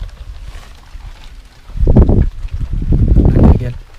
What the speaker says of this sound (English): And that wind is howling.